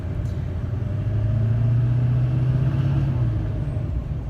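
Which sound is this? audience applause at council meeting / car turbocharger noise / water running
car turbocharger noise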